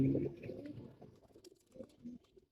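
A breeding pigeon gives a low, throaty coo up close at the start, followed by softer scattered coos and faint rustling that fade toward the end.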